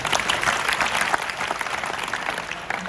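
Students in a college hall break into loud, sustained applause, a dense crowd of clapping hands that holds steady from start to finish with no voices over it.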